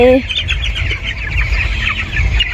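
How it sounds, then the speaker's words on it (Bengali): Young chickens being vaccinated at a poultry shed, with high, thin peeping and cheeping from many chicks over a steady low background hum. "ভ্যাকসিন করা হচ্ছে মুরগিকে"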